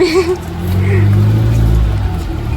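Street traffic rumbles by nearby, one vehicle engine building to a steady pass, with a voice briefly audible at the start.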